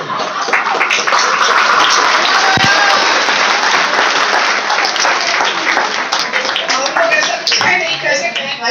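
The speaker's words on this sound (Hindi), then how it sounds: "इस शंकर में ताली बहुत बज जाती है" An audience at a live Hindi comedy show bursts into loud, sustained applause, dense clapping carrying on for several seconds.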